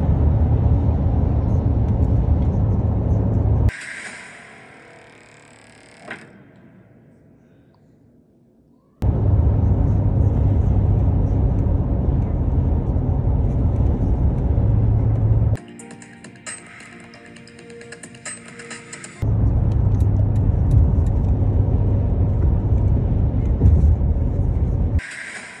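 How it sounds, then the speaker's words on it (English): A brand-new 2023 Cadillac Escalade V luxury SUV racing at around 150 mph: loud, steady engine and road roar fills long stretches, twice dropping away to quieter, muffled passages before surging back. "I'm driving too fast."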